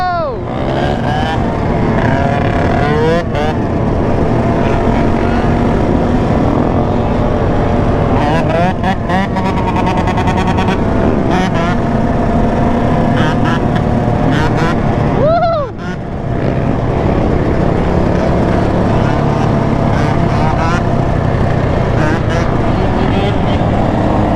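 A two-stroke motorcycle revs hard at a large Miami street ride-out with hundreds of riders, its loud engine rising and falling in sharp pitch sweeps amid constant traffic roar and passing bikes.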